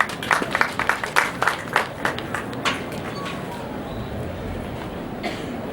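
A graduation ceremony crowd claps briskly for a few seconds, the applause thinning out and fading into quiet room noise.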